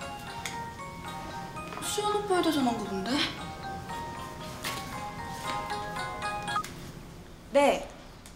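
A telephone dial beeps through a quick run of electronic tones, with a descending sweep and a bright chirp near the end, heard under light background talk in a Korean TV drama scene.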